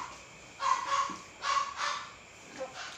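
A pet dog barks at home, somewhat distant and moderately loud, giving about four sharp barks in two quick pairs over steady background hiss.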